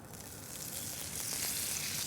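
Butter sizzling in a hot pan as a Cucumber Spinach Soup with fennel croutons gets underway, a steady soft hiss and crackle, faint and continuous with no talking.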